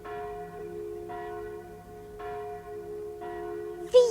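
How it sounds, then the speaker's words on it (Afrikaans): Church bells ring out over a village in an Afrikaans-dubbed episode of the animated Heidi series. There are several slow, evenly spaced tolls with long ringing tones and no speech, and a sharper sound cuts in at the very end. "Luister, ons kan die klokke hoor."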